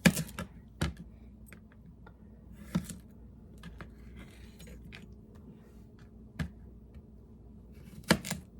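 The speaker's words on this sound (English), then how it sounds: "Now I'm cutting this is a yellow zucchini, not a yellow squash, a yellow zucchini." Chef's knife slicing a yellow zucchini on a cutting board, giving a few sharp, separate chops spaced irregularly over a quiet room background, close and fairly crisp.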